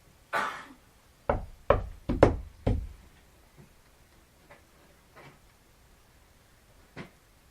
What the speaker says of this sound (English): Do you know the shave and a haircut knock?